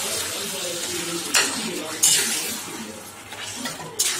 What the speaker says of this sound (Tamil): ஒரு 5 நிமிஷத்துக்கு நல்லா பரட்டி விடுங்க